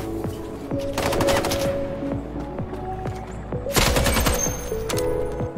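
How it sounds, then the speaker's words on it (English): Rapid automatic weapon fire in the shooter game Islands of Nyne, with two dense bursts of close, loud shots and scattered single reports in between, without talk. "Who's shooting me?"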